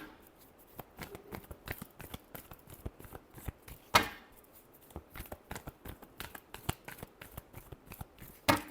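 Tarot cards are shuffled up close in a rapid flurry of crisp riffling clicks and snaps that come in uneven bursts.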